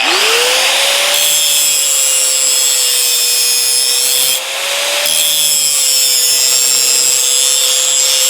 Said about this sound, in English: I'm just beveling this off so I get a better weld, stronger weld in here.